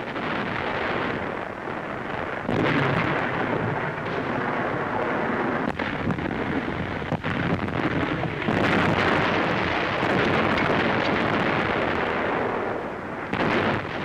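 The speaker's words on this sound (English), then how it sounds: "enemy snipers machine gun our infantry positions." WWII battlefield in North Africa, Algeria and Tunisia, with machine gun fire: a dense, continuous rattle of bursts and heavy booms over rough wind-like noise, sustained throughout and fairly loud.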